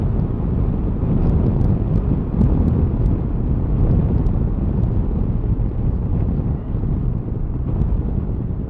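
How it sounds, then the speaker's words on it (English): Steady roaring wind noise buffeting the rider's helmet while riding a 2023 Honda CB500X motorcycle at road speed, loud and continuous with no talk. "getting quite a lot of wind noise"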